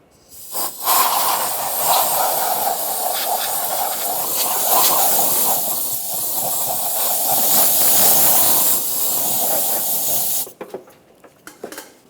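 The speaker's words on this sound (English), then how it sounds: "Just going to use a little compressed air." Compressed air blowing debris off the intake of a 1996-2002 Toyota 4Runner during an intake gasket replacement: a loud, steady, close hiss of about ten seconds that starts and stops abruptly.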